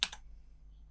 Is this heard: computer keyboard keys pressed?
yes